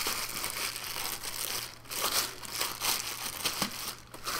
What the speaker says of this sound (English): we have the product itself in a plastic bag. Let's rip it out of that.